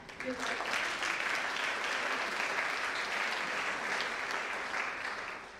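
Applause for a student being recognised at a high school honors night, a steady, even roar of many clapping hands that holds throughout and fades slightly at the end, heard from some distance in a large hall.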